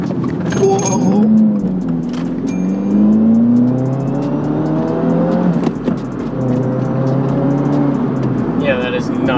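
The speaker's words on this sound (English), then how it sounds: "Sounds like a race car." A 2024 Subaru WRX fitted with a Billet Works short shifter pulls through gears from inside the cabin, its engine droning and rising steadily with each shift, with people talking over it.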